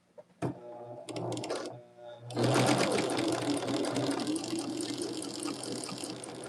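A sewing machine runs in short starts and then a long continuous burst, stitching a Jacob's Ladder quilt block, loud and close with a whirring, slightly watery hum.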